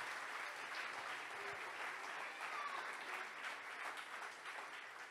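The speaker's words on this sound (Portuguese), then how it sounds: "Aplaude o Senhor Jesus, porque deu certo." A church congregation at a missions congress claps together, a dense, even wash of applause heard from a distance, moderately quiet and sustained throughout with no break.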